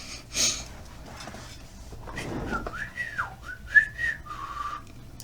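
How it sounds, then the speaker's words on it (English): A person tries to whistle, giving a faint breathy puff and then a thin, wavering whistled tone that rises and dips for about two seconds, close and quiet. "I was going to try to whistle"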